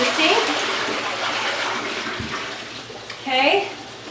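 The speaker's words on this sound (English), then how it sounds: "Dump the water into the sink." Water poured from a chicken waterer into a sink: a steady splashing rush and gurgle that runs for several seconds in a small room, with brief voice sounds at the start and near the end.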